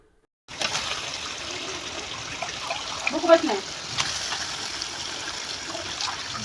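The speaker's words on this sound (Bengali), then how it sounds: "গুস্ত দিয়ে দিলাম কড়াইতে, এখন ভালোভাবে উল্টায় পাল্টায় মিশাই নিব মশলার সাথে" Duck meat tossed into a hot wok of cooked-down spice paste on a clay stove, giving a steady wet sizzle and hiss that holds evenly throughout, with a small burst of crackle near the middle.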